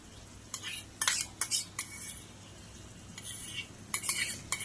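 A spoon stirs a poppy seed and cashew paste into chicken rezala simmering in a pan on a low flame, giving close, irregular bursts of scraping and clinking strokes with short pauses between them.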